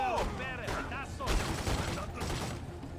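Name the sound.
gunfire in The Godfather II video game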